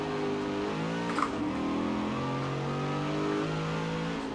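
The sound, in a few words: car driving with race tires in video game Forza Horizon 4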